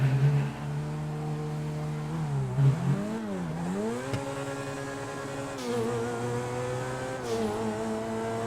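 Game car engine in GTA V revs steadily through the gears with double-clutch shifts, the pitch climbing, dipping briefly at each change and rising again, loud and continuous with no talk.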